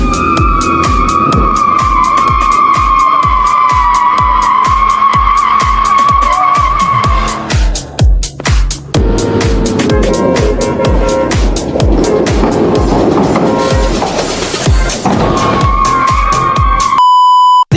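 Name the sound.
off-road vehicle pulling an excavator out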